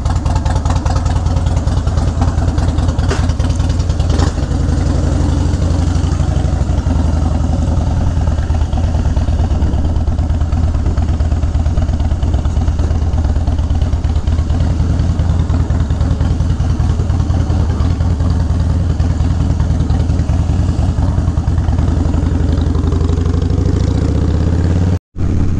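Several motorcycles idle together on a warm Florida day, a steady, loud, low engine drone holding for the whole stretch with faint rises in revving, ending in a brief cutoff.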